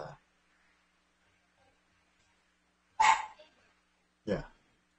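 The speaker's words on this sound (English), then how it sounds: "Did you hear my dog?" A dog gives a few sharp barks in quiet surroundings, one at the start and two more spaced a second or so apart.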